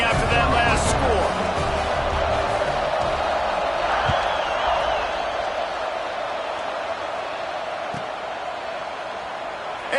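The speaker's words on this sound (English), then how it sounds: "this crowd is buzzing after that last score" A football stadium crowd at an NCAA game buzzes after a score, a steady loud roar of cheering that fades slowly, with a commentator talking over it.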